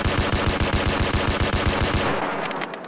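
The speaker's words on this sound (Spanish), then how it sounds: "Podemos disparar tranquilamente de cadera." SKS rifle fired from the hip in Escape From Tarkov, a fast, even string of about a dozen loud, close shots for two seconds, then stopping as the echo fades.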